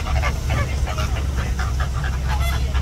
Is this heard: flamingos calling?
yes